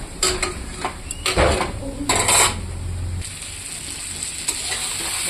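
Drumstick, potato and tomato with spices fry in a pan, a soft sizzle under repeated metal scraping and clanks of a spatula against the pot, loud near strokes at first then quieter hissing; nobody speaks.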